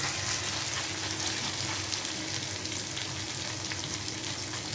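Steady, dense sizzling as food hits hot mustard oil in a pan, a continuous bright crackle at an even level throughout, with no voices.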